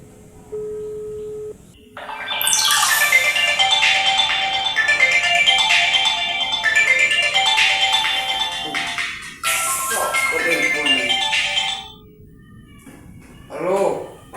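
A phone ringtone plays loudly as a bright repeating electronic melody for several seconds, briefly pausing and resuming, with short beeps and some talk around it.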